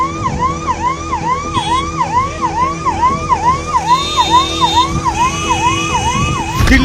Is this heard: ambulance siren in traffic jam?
yes